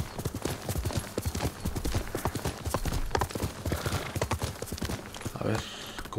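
Horse hooves clip-clop in a steady rapid rhythm as a mount travels in the video game Ghost of Tsushima, with game music and sounds layered underneath.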